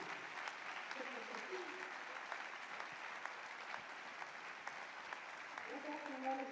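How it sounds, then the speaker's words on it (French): Steady audience applause fills a sports awards ceremony hall as the sportswoman of the year is honoured, a dense even patter of many hands with a voice rising faintly over it near the end. "Qu'elle entende vos applaudissements"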